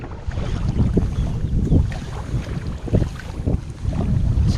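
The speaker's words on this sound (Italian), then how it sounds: "E il vento ci sta girando." Wind gusting across the microphone on an inflatable Gumotex Swing 2 kayak on the Adda river, a loud continuous rumbling buffet with uneven surges and faint water sounds beneath.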